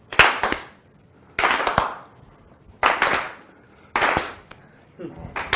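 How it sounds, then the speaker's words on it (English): Audience clapping in unison, one sharp burst of applause roughly every second and a half, five times in all, loud and close with brief decays between. "If you got it right, everyone applaud once."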